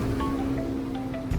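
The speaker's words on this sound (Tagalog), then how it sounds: "Medyo malakas ang hangin ngayon." Strong wind blows steadily outdoors near a university campus, a loud continuous rush and buffeting at the microphone with no pauses.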